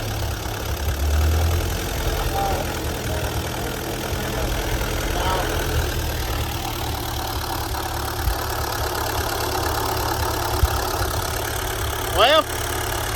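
A Ford 8N tractor engine idling close by with a low, steady rumble that holds throughout, while a few faint outdoor sounds come and go over it.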